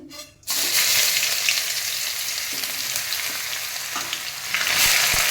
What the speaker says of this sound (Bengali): কড়াইতে আগে তেল গরম করে নিয়েছি। এরপর দিয়ে দিব রসুন কুচি